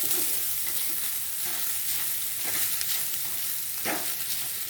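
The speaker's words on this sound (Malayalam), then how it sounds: "ഈ ചോറും കൂടി ഇതിലിട്ട് നല്ല ഒതുങ്ങി മിക്സ് ചെയ്തെടുക്കാം" Cooked rice is stirred into amla masala in a hot pan, giving a steady sizzle punctuated by repeated scraping and turning strokes every second or so, close and without speech.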